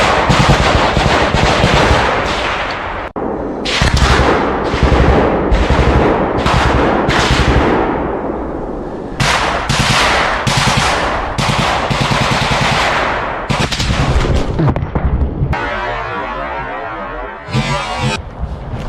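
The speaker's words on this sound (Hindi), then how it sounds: "इसमें यूक्रेनी सैनिक जो हैं वो ताबड़तोड़ गोलियां बरसाते हुए आपको दिखाई दे रहे हैं।" Ukrainian soldiers in combat fire sustained bursts of machine-gun and rifle fire, loud and close, with dense rattling volleys running almost continuously and brief pauses between bursts, while faint voices sit under the shooting.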